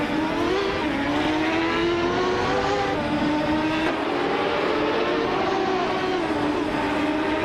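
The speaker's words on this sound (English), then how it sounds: "Shikamaru is driving a Penske PC23 and is currently in 3rd place." A Penske PC23 race car engine in a racing video game drones steadily and loudly throughout, its pitch sweeping up and down through gear changes with no break in the sound.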